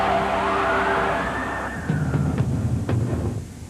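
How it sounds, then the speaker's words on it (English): Fire engine and police car sirens wail in a long rising sweep, then the sound breaks into choppier yelps and horn blasts amid city commotion, loud and close. "this deafening roar of fire engines and police"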